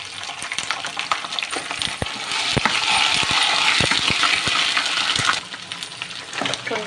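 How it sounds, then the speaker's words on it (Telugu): Onions frying in a pan with ginger garlic paste added, a continuous hiss of sizzling oil punctuated by sharp clicks and taps of a spoon against the pan, fairly close and without talk. "గోల్డెన్ బ్రౌన్ కలర్ వచ్చేంత వరకు ఫ్రై చేసుకోవాలి అండి"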